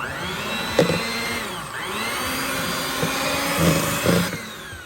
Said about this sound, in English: you put them into a blender and make them into a puree